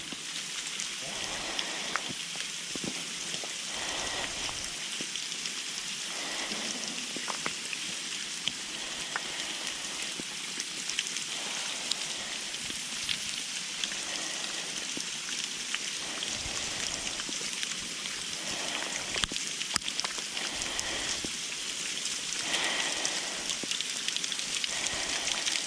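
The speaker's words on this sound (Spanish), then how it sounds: "Acá está lloviendo. Dentro de la cueva." Rain falling inside Agapito Treviño cave, a steady close patter of drops on rock and water with a continuous hissy wash throughout, no voices.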